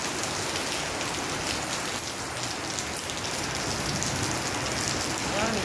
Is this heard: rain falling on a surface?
yes